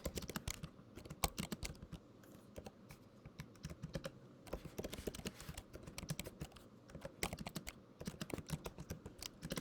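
Quick, uneven clatter of keys on a computer keyboard as code is typed, with short bursts and brief pauses, close and fairly quiet, and no speech.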